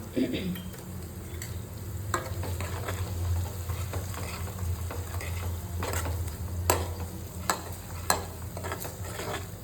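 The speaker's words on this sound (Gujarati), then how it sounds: "તો આવી રીતે બધા મસાલાને મિક્સ કરી દેવાના છે." A spoon scrapes and stirs spices, including red chilli powder, in a pan with a steady low sizzle underneath, punctuated by a few sharp metallic clinks.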